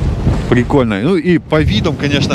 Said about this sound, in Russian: если бы не этот гребаный ветер, который нас просто сносит